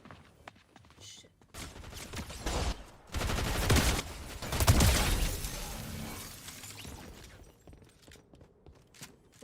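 Submachine gun fire in a shooter video game, heard as a loud sustained spray that lasts a few seconds in the middle, with quieter game sounds before and after.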